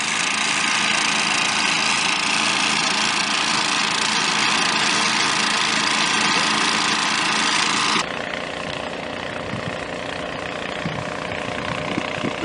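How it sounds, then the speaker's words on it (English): Four water pumps run together to fill a 4 ft AquaDam for an airport expansion isolation at South Lake Tahoe, making a loud, steady mechanical drone that drops slightly in level partway through. No one speaks. "all 4 pumps are pumping"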